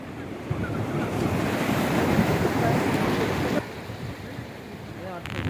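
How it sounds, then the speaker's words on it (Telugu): Sea waves crash and wash against the shore along the Karnataka coast between Murudeshwar and Udupi, a loud continuous surf roar mixed with gusting wind buffeting the microphone, easing slightly near the end. "అలలు"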